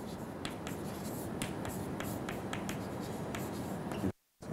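Pen or marker writing out an aircraft climb-performance equation, a steady scratchy scribble with brief stroke ticks, close and fairly quiet, with no talk over it.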